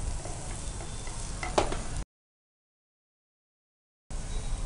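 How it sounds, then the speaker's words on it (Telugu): Thin-cut vegetables for a vegetable khakra filling stirred and tossed in a frying pan, giving a steady close sizzle with light scraping for about two seconds, then a gap of silence before the sizzling resumes. "సో మంచిగా అలా మిక్స్ చేసుకుంటూ టాస్ చేస్తూ ఉండాలా?"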